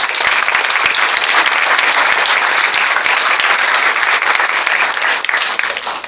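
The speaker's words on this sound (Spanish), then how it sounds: "Un aplauso para ellos." A parish congregation applauds the music ministry at a Bible-month closing event, loud, dense clapping that holds steady for several seconds before tapering slightly at the end.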